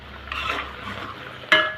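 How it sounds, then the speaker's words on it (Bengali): Broad beans for a Bengali shim bahar dish being stirred in a pan as they dry out, a soft scraping shuffle that swells midway and ends with a sharper clink of utensil on metal. "এখন আমি জাস্ট নেড়ে চেড়ে একটু শুকিয়ে নিব"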